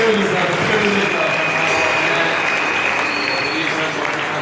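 An audience at a work presentation cheering and applauding, a dense continuous roar of clapping that stays loud and even throughout.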